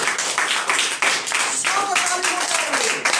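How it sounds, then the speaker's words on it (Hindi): A church congregation claps loudly during a sermon, rhythmic group clapping that comes in pulses, with a voice and some music-like tones sounding alongside it. "जोरदार ताली बजाइए"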